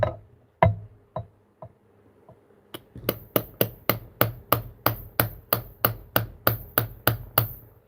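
Sharp metallic taps strike a window lock during lock-picking work, a few scattered knocks at first, then a steady, fairly loud run of evenly spaced taps, about two per second, close by with no talk.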